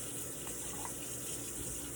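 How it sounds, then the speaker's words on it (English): Cold water pours steadily into a mixing bowl for a soul food batter, a continuous close splashing stream with no talk over it. "So this 1 cup of cold water right here, we're gonna pour half of that in there."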